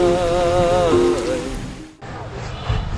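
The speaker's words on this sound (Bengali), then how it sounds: "আকাশ থেকে বৃষ্টি নামছে" Rain falls steadily during an outdoor football match, a broad, even hiss. A melodic voice sings over it at first, then cuts off abruptly, leaving only the rain.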